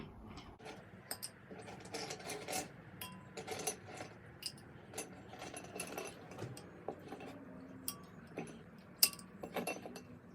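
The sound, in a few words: ice cubes being put into a bowl of water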